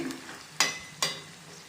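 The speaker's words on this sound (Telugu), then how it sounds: "ఇలా కలుపుతూ ఫ్రై చేసుకోవాలి" Chopped onions frying in oil for chicken dum biryani, a soft sizzle under two sharp scraping strokes of a spoon stirring the pan, no talk.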